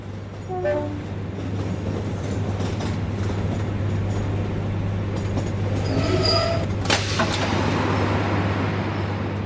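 A train rolls along the rails with a constant low rumble and a steady mechanical drone, and a faint horn-like tone rises briefly over the continuous running noise.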